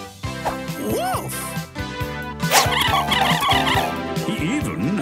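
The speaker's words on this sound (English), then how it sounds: "Oh, woof, woof, woof." A cartoon dog gives a run of short, bright woofs in a children's animated musical, its barks mixed with singing and jaunty background music.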